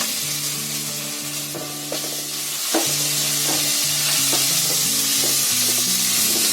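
Ginger-garlic paste, coriander powder, turmeric and chilli masala frying in a pan, loud steady sizzle with a few stirring scrapes, with background music.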